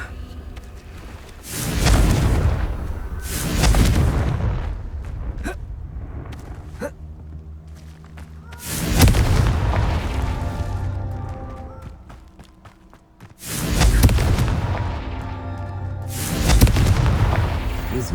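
Confringo fire spells explode in Hogwarts Legacy, four heavy booming blasts spaced several seconds apart, loud and close, each with a rumbling tail and softer crackling effects between them.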